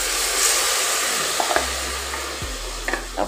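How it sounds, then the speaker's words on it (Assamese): Sago fries in cow ghee in a pan on an induction cooker, a steady close sizzle with a few soft stirring scrapes and clicks. "অকণমান ভাজি ল'ম এইখিনি মই।"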